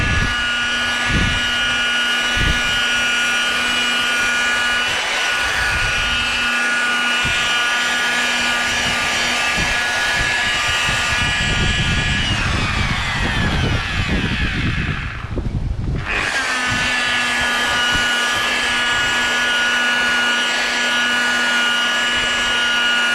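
Rotary polishing machine buffing car paint outdoors in light sun, a steady loud whine with strong tonal hum running throughout, briefly dipping in pitch and nearly cutting out before spinning back up.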